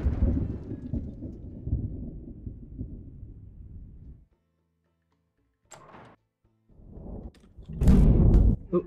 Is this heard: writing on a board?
no